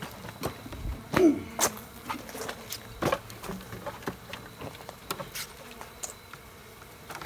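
Honeybees buzz around a large hive being removed from behind a chimney, a faint, uneven drone broken by scattered knocks and bumps from the work nearby.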